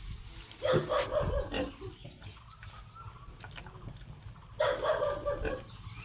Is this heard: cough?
no